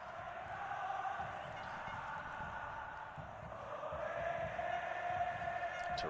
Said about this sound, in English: Terrific noise, as you'd expect from this crowd.